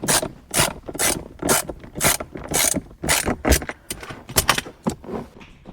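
Rapid ratchet clicking in repeated bursts, close and loud, as a ratchet wrench backs out the bolts on a Camaro SS short throw shifter; no one speaks.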